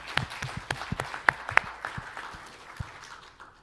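A small audience in a United Nations meeting room gives brief applause, a handful of distinct sharp claps at first that thin out and fade into scattered taps.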